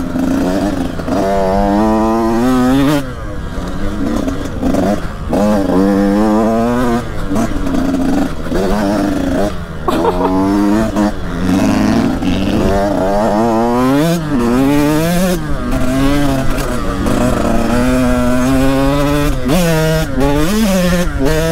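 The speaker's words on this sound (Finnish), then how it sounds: "Iso kaksitahtimoottori eikä ole mitään tehorajoitusta." A Husqvarna TC 85 two-stroke motocross bike with no power restriction revs loudly and close, its buzzy engine note repeatedly rising and falling in sharp bursts with short gaps between.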